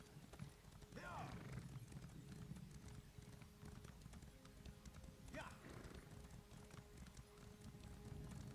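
Horse hooves clip-clop in The Elder Scrolls Online as a mount sets off, a steady trotting rhythm under continuous game music and ambience, with a couple of brief whinny-like swells.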